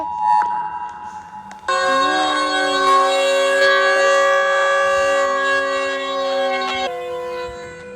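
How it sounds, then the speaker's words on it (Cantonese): A loud wailing alarm siren in an SCP video game rises and holds a steady, piercing tone for several seconds, then drops back down. "嗰個警笛頭，好嘈啊"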